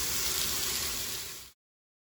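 Bone-in short ribs sear in a hot pan with a steady, close sizzle and crackle that runs on evenly, then cuts off abruptly.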